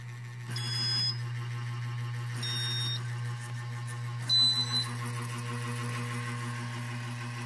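A machine's screws give off a constant low electric buzz that holds steady throughout, broken three times by short, high electronic beeps.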